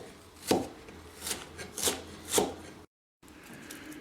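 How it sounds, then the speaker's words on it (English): A knife chops garlic on a wooden cutting board, four soft, evenly spaced thuds with a brief rubbing scrape, close and fairly quiet, followed by a short silence. "And then finish the chop the other way."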